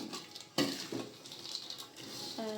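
Chili and tempe being stirred together in a pan, with a spoon scraping and clattering against the metal in uneven strokes and a soft sizzle underneath, close and moderately loud.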